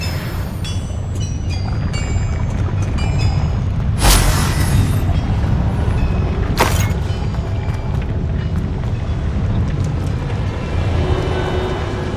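Bombarda spell explosions in the Hogwarts Legacy video game: two sharp, loud blasts a few seconds apart, each with a booming burst, over a steady rumbling game background.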